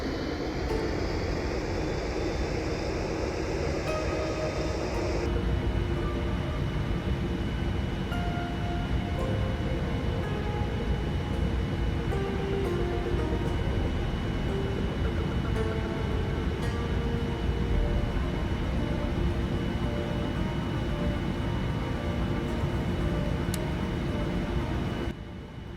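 A simulated Boeing 787-8 airliner in TUI Netherlands livery taxis after landing at Saint Maarten in the Prepar3D v4.5 flight simulator, its engines a steady, loud whine and rumble that changes tone slightly after a few seconds and then holds.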